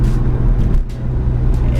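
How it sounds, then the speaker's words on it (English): A 2013 Hyundai Genesis Coupe fitted with an Injen air intake sounds out with a deep, throaty engine rumble, loud and close, briefly dipping and then swelling again. "it makes your engine sound a little bit throatier. You can hear the induction"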